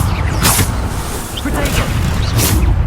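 Bombarda spell blasts in Hogwarts Legacy go off as repeated dull booms with whooshing bursts amid constant battle noise, while a voice speaks over the fight.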